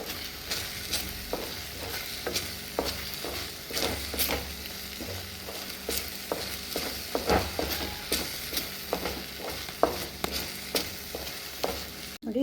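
A thick carrot and paneer burfi mixture stirred in a pan on the stove, with steady scraping and soft sizzling, rhythmic spoon strokes continuing throughout at close range.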